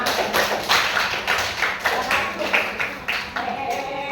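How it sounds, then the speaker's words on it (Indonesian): A group claps in a steady, lively rhythm, the sharp slaps close and continuous for several seconds. "Terus tepuk tangan, ya semua."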